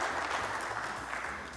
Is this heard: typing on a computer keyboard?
no